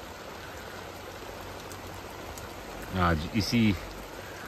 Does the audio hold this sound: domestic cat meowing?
no